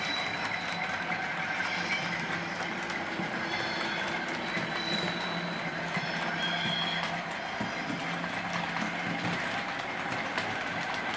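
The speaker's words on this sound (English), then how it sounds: "Here a bit of flange squeal" A model Class 47 locomotive runs on an incline with a thin, high flange squeal riding over a continuous rolling rumble of wheels on track, steady and close throughout.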